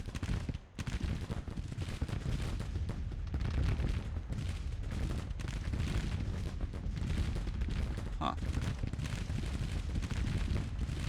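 Musket and cannon fire from Civil War units in a strategy game, a steady rolling crackle of shots and booms that stays loud and continuous throughout, with no voices.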